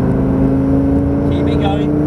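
Lamborghini Gallardo engine on a circuit at Prestwold Hall, a loud steady in-car drone with strong engine harmonics as the car brakes hard and downshifts, an instructor talking over it.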